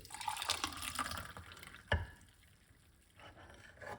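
Baking soda and lemon water is poured back from one container into another, a soft, faint splashing trickle with a brief clunk of a container partway through, and no talking.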